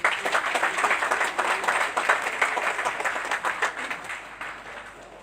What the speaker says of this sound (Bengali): একটা করতালি হবে।